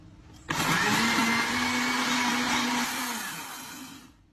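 An electric blender runs on dragon fruit and water, starting abruptly, then a loud steady whir that holds for about two and a half seconds before slowly spinning down.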